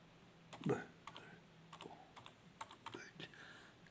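Short bursts of keystrokes tap on a computer keyboard, a loud clatter at first and then scattered quieter clicks, close and dry with no voices.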